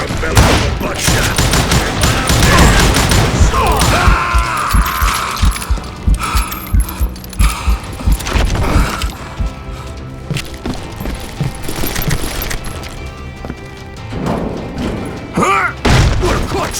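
Shotgun blasts ring out in the Western shooter game Call of Juarez: Gunslinger, a loud rapid volley of booming shots and thuds with brief gaps, mixed with game effects and a voice.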